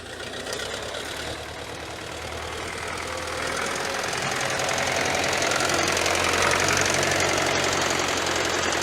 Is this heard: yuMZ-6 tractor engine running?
yes